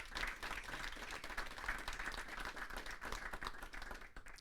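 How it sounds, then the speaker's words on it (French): Audience applause at a French-language conference talk on consulting firms deploying AI agents, with many hands clapping in a dense, slightly uneven patter that holds steady before tapering off at the end. "il mérite une salve d'applaudissements"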